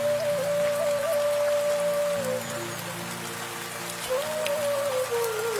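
Steady rain in a cartoon patters as a dense, even hiss throughout, with a thin sustained tone gliding above it and no voices.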